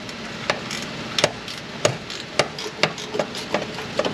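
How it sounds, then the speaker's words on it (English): A low-profile ratcheting wrench backs off the top exhaust flange bolt on a Ram 1500 5.7, producing sharp, evenly spaced metallic clicks about every half second over a faint background hum. "low pro ratcheting wrench coming in here. We'll get that top flange bolt backed away"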